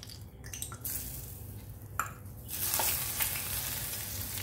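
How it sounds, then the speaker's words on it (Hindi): Oil is poured into a hot pan of peanuts being roasted for an onion cucumber salad, with light stirring and clinks before the sizzling swells louder and steadier, close up and without speech. "अब हम इसमें ऑयल डालेंगे।"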